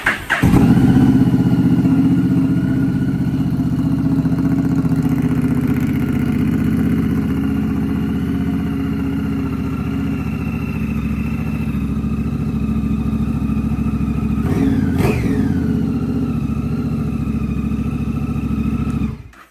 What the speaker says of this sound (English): I'm going to start it up just so you guys can hear this Two Brother Racing exhaust.